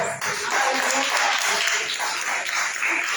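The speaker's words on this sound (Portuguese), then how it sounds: "Nossa aplauso para Ti, Senhor" A crowd claps in steady, dense applause that holds for a few seconds, loud and continuous.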